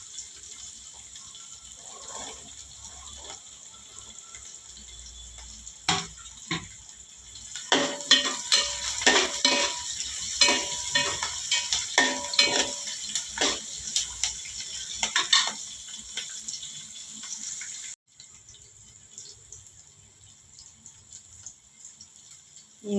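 Sliced big onions and green chillies sauté in a pan with a constant background sizzle, broken by a stretch of loud, rhythmic spatula scrapes and clanks against the metal, then settling back to quiet frying.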